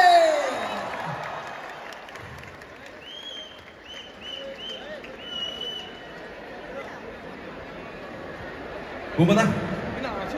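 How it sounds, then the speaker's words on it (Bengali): A large audience at a stage celebration marking actor Dev's 20 years claps in a broad, steady wash of applause and crowd noise, with a sharper burst near the end. "জোরে হাততালি।"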